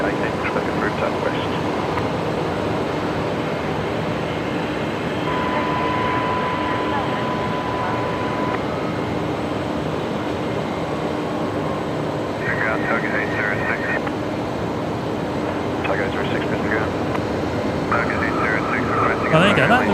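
Qantas airliner, flight 544 arriving from Sydney, landing on runway 01 right at Brisbane Airport, a steady continuous engine roar heard at a distance with people talking over it throughout.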